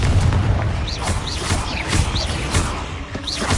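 Repeated blasts from the Confringo fire spell in Hogwarts Legacy, dense booming bursts layered over busy combat noise with whooshing magical effects, loud and continuous.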